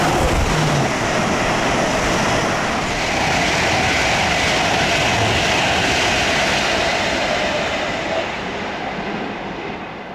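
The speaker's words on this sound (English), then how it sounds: "This ScotRail service is heading past the site of the original Gretna station on the West Coast Main Line through Gretna Junction" ScotRail passenger train running through Gretna Junction on the West Coast Main Line at the England-Scotland border, a loud, steady rumble and roar of wheels and carriages held close throughout, easing only slightly at the end.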